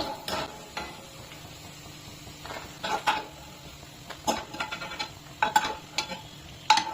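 A pan with oil and ghee heating on the stove, giving a faint, steady sizzle under scattered clinks and scrapes of stirring, with no talking.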